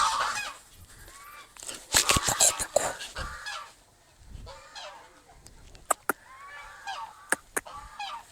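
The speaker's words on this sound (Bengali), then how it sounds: "রাজহাঁস আছে, ঠোকর দেওয়া হাঁস।" Domestic geese honking along a rural road, loud harsh honks in bursts, a few sharp close calls standing out over quieter background noise.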